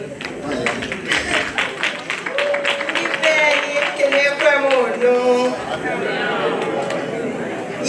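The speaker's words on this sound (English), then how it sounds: "Give a round of applause." Audience applause at an 80th birthday celebration, a broad ripple of clapping that swells and then holds steady, with cheering and a voice speaking over it through the middle.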